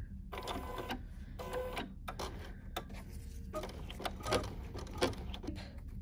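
Sewing machine stitching vinyl, a close mechanical whirring patter in short bursts with brief stops, fairly quiet and without talk.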